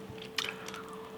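Soft, close bites and squishy chewing of a Crumbl carrot cake cookie with cream cheese frosting and pecans, with a brief crunchy burst partway through and no talking.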